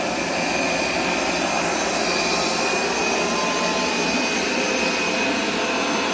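A Hoover carpet cleaner, a Power Scrub Turbo or SmartWash Pet Complete, runs in dry-only mode. It makes a loud, steady, close motor roar with a high whine and does not change throughout.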